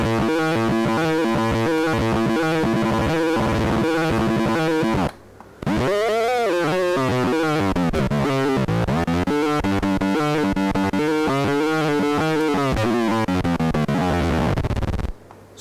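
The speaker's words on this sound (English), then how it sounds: "we can just push it into distortion" Circuit-bent Hing Hon EK-001 toy keyboard pushed into heavy distortion, playing loud buzzy warbling tones and bending pitch sweeps that run continuously with a brief dropout near five seconds and another at the very end.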